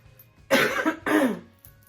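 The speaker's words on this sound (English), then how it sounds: "Sorry, I'm coughing" Two harsh, close coughs in quick succession, loud and raspy, followed by a brief quiet pause.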